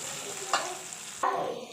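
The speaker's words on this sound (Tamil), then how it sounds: "இப்போ அந்த காயை நம்ம நல்லா வதக்க போகிறோம்." Chopped ridge gourd sizzles in a hot pan, a steady close frying hiss broken by two sharp stirring scrapes of a spoon.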